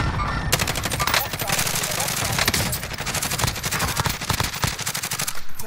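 Rapid automatic gunfire in Call of Duty Modern Warfare Warzone rattles almost without pause, dense overlapping bursts of shots filling the whole stretch at close range.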